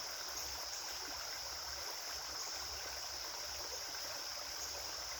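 A steady stream of flowing water, a constant soft rushing babble with no voices, even and unbroken throughout.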